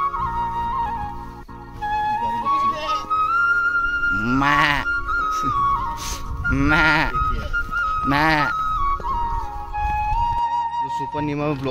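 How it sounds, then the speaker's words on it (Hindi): Goats bleat loudly in a village in Uttarakhand, giving several drawn-out, wavering cries close by. A tonal musical background runs underneath. "तो देखा तुम्हें बकरियाँ दिखाते हैं।"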